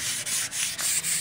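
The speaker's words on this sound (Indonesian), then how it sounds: "Kita gosok agar halus dan rata seperti yang kita inginkan." Short rhythmic strokes of hand sanding filler smooth on a metal plate, about five quick close rubs in a little over a second, with nobody talking.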